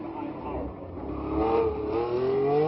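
Bandini's Formula 1 car at the 1967 Monaco Grand Prix, its engine note rising in pitch as it passes, loud and close, with a commentator talking over it.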